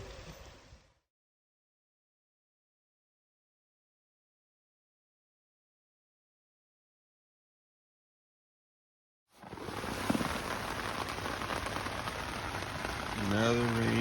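Rain patters steadily on a Big Agnes tent at night, a dense close hiss that starts after a long silence, with a voice speaking near the end.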